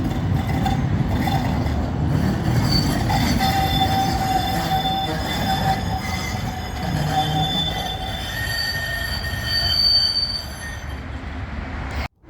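A tram in Budapest rumbles past on the tracks along a curve onto the promenade, loud and close, with high metallic wheel squeals ringing out over steady rolling noise before it fades.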